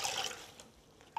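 Water trickles and drips from a freshly washed, fleece-lined wool hat as it is squeezed out by hand. The soft, close splashing fades toward quiet, then a single drip lands near the end.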